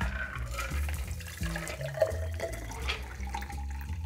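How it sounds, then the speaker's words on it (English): A pink Floradora cocktail poured through a fine strainer, a close, steady trickle of liquid with small splashing and dripping, no speech. "Now, I'm going to fine strain this because I only have a single type of coil on my Hawthorne strainer."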